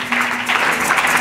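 A church congregation applauds and cheers in a short, dense burst of clapping filling a large hall, steady and moderately loud throughout.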